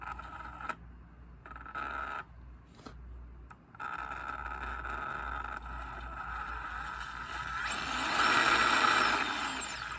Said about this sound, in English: Yeah, I told you that transmission is noisy.